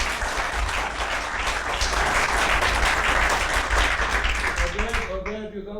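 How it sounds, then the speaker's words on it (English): A seated audience at a talk on makers, technology and DIY breaks into loud, sustained clapping from many hands. The applause holds steady for about five seconds before a speaker's voice cuts in at the end. "usually people applaud"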